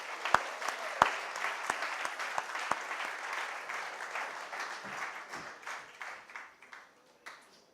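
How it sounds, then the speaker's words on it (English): Audience applause at a book launch for Twinkle Khanna's book Welcome To Paradise, opening with a few sharp individual claps before a dense round of clapping that slowly thins and fades out. "let's just give a big round of applause to this Renaissance woman"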